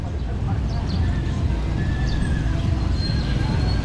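Horse whinnies at a village horse race, short high neighs rising over loud, dense crowd noise and chatter, with some hoof clatter in a busy outdoor festival setting.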